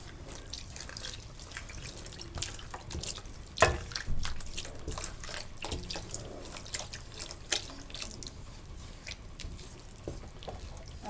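Milk poured into a pot of rice and grated carrot for an old-style carrot kheer. A steady liquid splash and trickle runs throughout, with one louder splash partway through and no talking.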